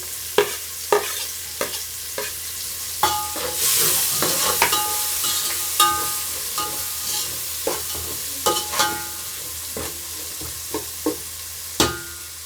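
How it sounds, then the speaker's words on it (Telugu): Chopped onions, curry leaves and beans fry in oil for egg biryani, giving a loud, steady sizzle close up, broken by repeated scraping taps of a spoon stirring the pan. "కరివేపాకు, ఆనియన్స్, ఇందులోకి బీన్స్ వేసుకుందాము"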